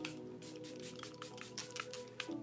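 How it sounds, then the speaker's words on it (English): Charlotte Tilbury Airbrush Flawless setting spray mists onto a face in a run of quick, soft hissing pumps, close and steady. "So I spray this all over my face first."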